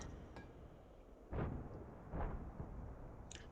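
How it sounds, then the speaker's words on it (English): Explosions in the World of Tanks video game, two muffled booms about a second apart over a constant low rumble of game noise, with faint clinks at the start and end. "You see the explosion?"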